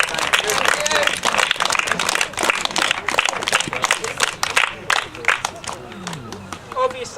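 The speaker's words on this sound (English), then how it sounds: "So could I ask the players just to give a round of applause for all these guys as well." Players giving a round of applause at a shinty presentation, dense close clapping from a group that thins toward the end, with voices talking beneath it.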